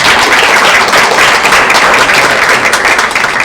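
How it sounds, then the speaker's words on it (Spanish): Sustained applause from an audience at a university exam review session, dense steady clapping filling the whole stretch at an even, loud level with no voices on top. "Un aplauso para ella. Un aplauso."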